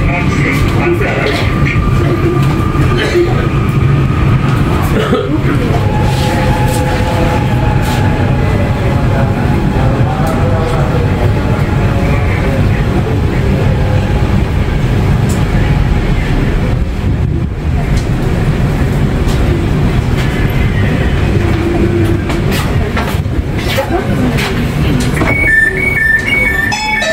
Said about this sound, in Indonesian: alhamdulillah kita udah sampai di stasiun Manggarai. Dan ini dia keretanya.